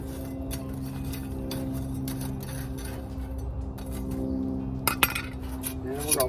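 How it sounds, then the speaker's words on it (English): Wood-fire coals in the firebox of an offset smoker get stirred with a metal tool, giving scattered scraping, ticking and clinking over a low steady background, with a couple of sharper knocks near the end. "Stir up the coals."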